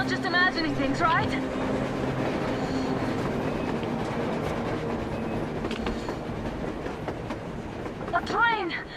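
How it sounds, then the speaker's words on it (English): Train on the surface in the game Metro Exodus, a steady rumbling rail roll with clattering wheels and occasional squeal, heard under voices talking. "A train! A damn train on the surface!"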